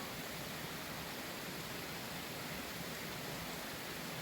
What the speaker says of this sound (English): so that's the Soda Springs, the waterfall